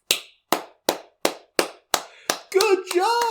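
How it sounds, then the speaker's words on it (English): Seven slow, evenly spaced hand claps ring out sharply and alone, one after another, before a voice starts speaking over the last of them. "Everyone, let's applaud the Karen for making an absolute idiot of herself"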